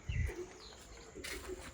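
Birds in a village, with a low soft pigeon coo at the start followed by faint chirps and calls, quiet and somewhat distant over a light outdoor background.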